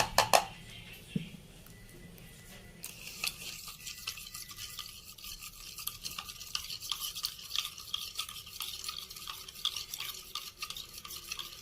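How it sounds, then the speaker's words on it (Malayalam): Salt being stirred into a little water in a mug, heard as a quiet, continuous scraping and swishing with small rhythmic clinks of the spoon against the mug, close and low in level after a brief clatter at the start. "ഒരു മഗ്ഗിൽ കുറച്ച് വെള്ളം എടുത്ത് സാൾട്ട് ലയിപ്പിക്കുക നന്നായി."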